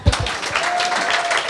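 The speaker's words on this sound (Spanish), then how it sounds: "Un aplauso a Sebas." Audience applause at a church anniversary celebration, a short burst of clapping from a crowd indoors, moderately loud and steady throughout with no talk over it.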